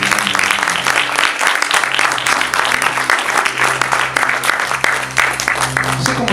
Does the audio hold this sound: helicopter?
no